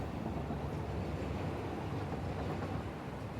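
A train in the factory-building game Satisfactory rolls along, giving a steady, dense rumble of wheels and motion at a constant level, with no voices over it.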